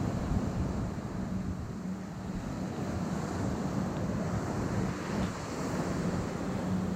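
Pacific Ocean surf breaks on the shore in a continuous, loud wash of noise mixed with wind buffeting the microphone, with no distinct individual wave crashes.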